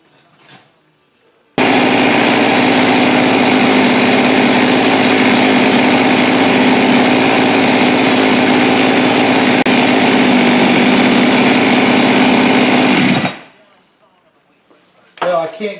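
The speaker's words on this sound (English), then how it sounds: "I can't get that throttle to shut all the way, so I turn the set idle screw in just a little bit, so at least it's consistent" A Huztl clone of a Husqvarna 372 XP X-Torq chainsaw, a cylinder test saw with a sticky throttle, starts up and runs loudly for about twelve seconds at a steady, high-pitched idle before cutting off abruptly.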